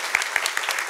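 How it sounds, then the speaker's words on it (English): An indoor conference town-hall audience claps briefly in a short burst of steady, moderately loud applause. "So just a round of applause for everyone involved here."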